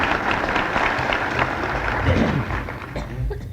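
An audience at a 1964 UCLA banquet claps steadily, a dense wash of applause with crowd murmur mixed in throughout.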